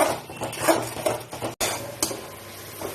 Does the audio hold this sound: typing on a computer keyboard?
no